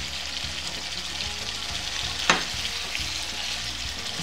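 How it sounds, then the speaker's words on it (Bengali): Potatoes frying with hilsa fish in spice masala, stirred gently: a steady, close sizzle with one sharp scrape of the spatula midway. "আলুগুলো দিয়ে আমি হালকা হাতে একটু নেড়ে দিচ্ছি"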